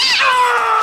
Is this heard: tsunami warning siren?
no